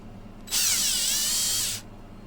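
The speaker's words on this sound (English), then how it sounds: "You're just going to remove these 4 screws right here." A power screwdriver whirs for about a second and a half while backing screws out of a 2014–2016 Toyota Corolla navigation touch-screen unit, one steady loud burst.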